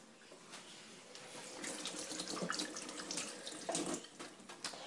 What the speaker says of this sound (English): After that, just wash your hands.